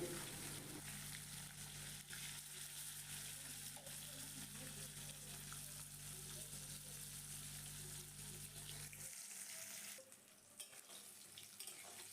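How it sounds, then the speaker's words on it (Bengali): Rui fish frying in hot oil in a pan, a steady close sizzle with a low hum underneath, which cuts away near the end to quieter kitchen noise. "মাছগুলোকে উল্টে পাল্টে খুব ভালো করে লাল লাল করে ভেজে নিতে হবে"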